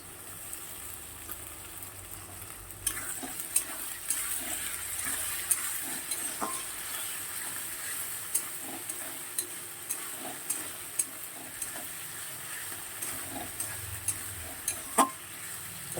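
Ginger and cumin spice paste for a soybean curry fries quietly in a pan with a soft, continuous sizzle, punctuated by light scattered clicks and taps of a utensil stirring it.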